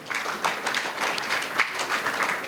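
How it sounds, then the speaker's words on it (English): Brief applause from an audience at a finance industry event welcoming the host, a soft, even patter of many hands clapping in a room. "A round of applause for our host as well."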